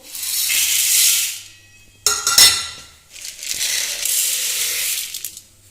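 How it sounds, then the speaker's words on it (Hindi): Dry white cowpeas (lobia) are poured into a large pot in a home kitchen, giving two long bursts of hissing, rattling grains with a sharper clattering spill between them, close and fairly loud. "बड़े बर्तन में डाल देती हूँ इसको।"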